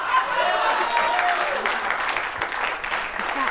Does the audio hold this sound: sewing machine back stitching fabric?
no